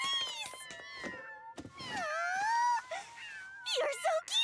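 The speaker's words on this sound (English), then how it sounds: "kitties!" Small kittens mewing in high, wavering cries, several overlapping calls close by, with brief pauses between bursts.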